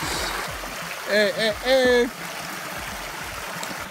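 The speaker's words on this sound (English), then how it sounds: "Water!" Water running in the stream at Paradise Falls, a waterfall in Ventura, gives a steady outdoor wash throughout, with voices calling out briefly over it midway.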